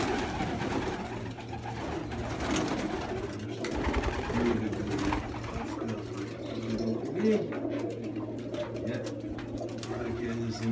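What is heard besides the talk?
pigeons cooing at a dovecote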